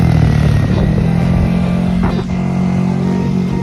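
A motorcycle paces a cyclist on a road ride toward Sual. The engine runs loud and close with a steady throbbing rumble and slight clatter, and no voices are heard over it.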